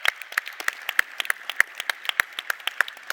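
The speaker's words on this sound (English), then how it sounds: "we have to give a great round of applause for all our judges" A small audience gives a round of applause for the judging panel at a startup pitch session, scattered individual claps standing out in a steady, fairly close rhythm without talk.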